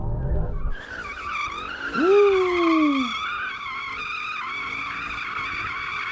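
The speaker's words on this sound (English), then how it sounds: "Right, drifting in the AMG." A heavy Mercedes-AMG car drifts in first gear, its tires letting out a loud skidding squeal that rises and bends over about a second above a strained, droning engine, with a voice briefly whooping.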